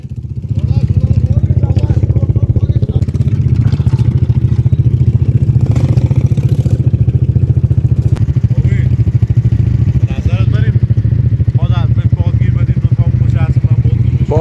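A motorcycle engine runs steadily and loudly up close, a constant rumbling drone holding throughout with slight variations in pitch and no clear revving.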